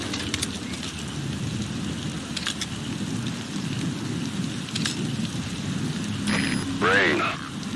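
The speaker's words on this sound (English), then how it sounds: "Sound of rainfall should help to mask your footsteps." Steady rainfall in Metal Gear Solid V: The Phantom Pain patters throughout, with a low rumble beneath and a few brief chirps near the end.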